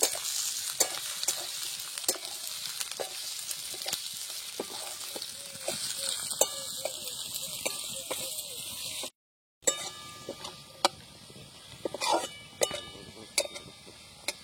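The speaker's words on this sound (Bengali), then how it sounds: "আলু দেওয়ার পর একটু ভালো করে নাড়াচাড়া করব।" Potatoes frying in a pan for a Bengali village-style fish chachchari, sizzling loudly and steadily while a utensil stirs and taps against the pan, with a brief cut to silence partway through.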